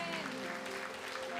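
A church congregation claps during a Presbyterian Sunday Advent service. The clapping is soft and fairly distant, blended with a sustained musical tone in the hall.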